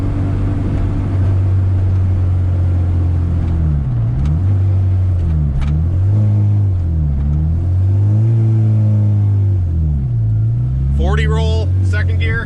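A K24-swapped Honda Integra pulls hard in second gear, its engine note climbing and dipping through repeated revs as a loud droning rumble heard from inside the car, with a brief voice near the end.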